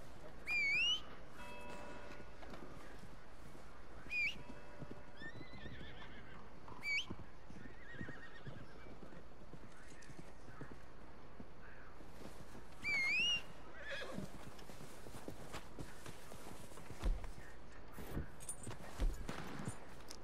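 Horse in the video game Red Dead Redemption 2, a few high whinnies spaced several seconds apart over soft clopping hooves and faint background game noise, with heavier thuds near the end.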